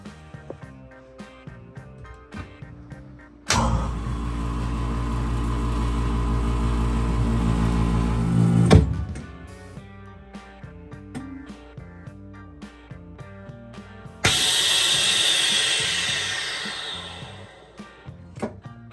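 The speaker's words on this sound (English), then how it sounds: "So we keep our vacuum sealer in the pantry." A vacuum sealer pumps air out of bags of marinated beef fillets in a pantry, running as two loud, steady motor drones of about five seconds each over quieter background music.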